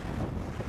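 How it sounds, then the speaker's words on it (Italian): Wind buffets a microphone outdoors in a brief, rough, low rumbling gust, with no voices. "Però c'è il vento."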